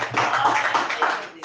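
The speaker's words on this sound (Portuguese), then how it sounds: "E você aplauda ao Senhor" A church congregation applauds in a short burst of dense clapping, loud and close, with voices mixed in underneath.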